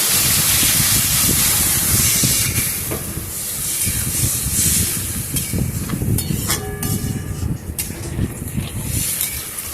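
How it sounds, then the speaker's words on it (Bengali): Water poured into a hot pan of vegetables and millet for a turmeric-free Ekadashi khichuri, setting off a loud, steady hiss of steam and spitting that fades slightly toward the end. "আমি পরিমাণ মতন একটু জল দিয়ে দেবো।"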